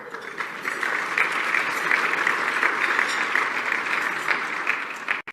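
Steady applause from an audience at a sponsored event, a moderate wash of clapping that holds evenly before cutting off abruptly.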